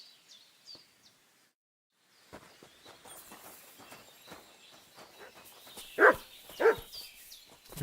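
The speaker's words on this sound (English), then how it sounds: "Here's my dog." A dog in a video game barks a couple of times near the end, preceded by soft footsteps and faint chirps amid scattered game sounds.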